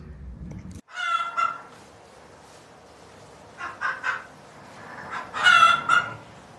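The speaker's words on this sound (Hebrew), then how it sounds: "אלה להקת תרנגולות" A flock of chickens clucking and squawking in short bursts of several calls, moderately loud and close, with quiet pauses between.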